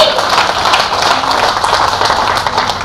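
Loud, dense applause from an audience at a Hindi poetry recital (kavi sammelan), a steady wash of many hands clapping with no break across the whole stretch.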